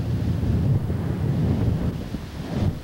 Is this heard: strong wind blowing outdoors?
yes